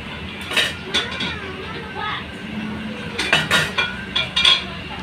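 Fried tofu being tipped into a pan, heard as a run of metallic clinks and scraping utensil clatter close by, coming in uneven bursts over a low kitchen background with a voice speaking.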